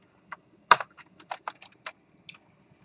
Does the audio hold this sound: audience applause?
no